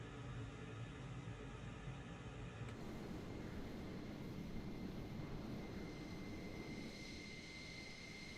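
An F-14 Tomcat jet taxiing in Microsoft Flight Simulator 2020 gives a faint, steady engine whine and rumble that holds without a break, with a slight change in tone a few seconds in.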